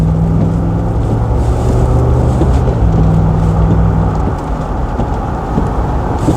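An Overfinch Range Rover P38 with a 300-horsepower engine, accelerating hard from inside the cabin, a loud continuous low roar and rumble with road noise that holds for about six seconds and eases slightly near the end.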